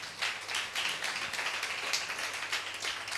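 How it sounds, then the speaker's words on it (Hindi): A church congregation claps for Jesus during a worship service, a brisk run of fairly even hand claps from a crowd, moderately loud throughout. "क्यों ना यीशु के लिए एक जोरदार ताली बजाएं।"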